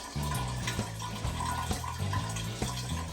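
Water trickles slowly from a tap into a container, a steady close stream with soft pulsing gurgles throughout and no talking.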